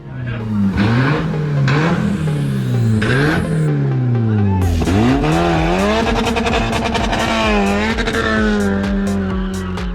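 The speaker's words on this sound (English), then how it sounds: "And now for the slowest fast car you will ever see." A slow sports car accelerates hard, its engine revving loudly through rising and falling gear changes, with a short tire squeal, close and continuous over the whole stretch.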